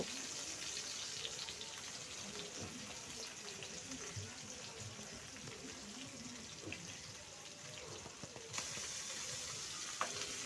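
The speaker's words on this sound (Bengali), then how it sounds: "এখন এক এক করে মাছগুলি আমি সুন্দর করে ভেজে নেব।" Fish frying one by one in about two tablespoons of mustard oil in a nonstick pan, giving a steady, moderately quiet sizzle and crackle that runs through the whole stretch, with faint speech in the background.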